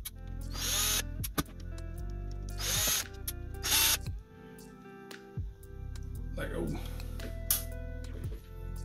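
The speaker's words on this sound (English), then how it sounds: "we are also going to have to undo these four screws, which will release this board from the case" A power driver unscrews the screws holding a board inside a Power Mac G5 case during an ATX conversion, giving several short bursts of high whirring with pauses between them, close by over steady background hum.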